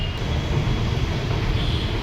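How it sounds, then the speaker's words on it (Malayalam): Nagpur metro train passing in the city near the Zero Milestone, a steady broadband rumble that holds evenly throughout at a moderate distance, mixed with general traffic noise and no talk. "അവിടെ മെട്രോ പോകുന്നു"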